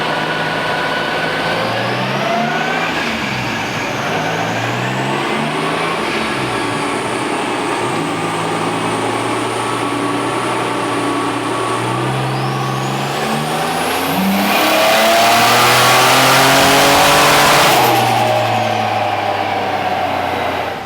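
A turbocharged V6 Commodore ute engine runs hard on a dyno, a loud sustained drone that climbs steadily in pitch before a brief louder surge of intake and turbo hiss near the end, with no talk over it.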